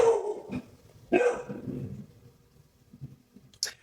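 A dog gives two sharp, loud barks close by indoors. A few softer growls and yips follow, along with faint clicks, fading out toward the end.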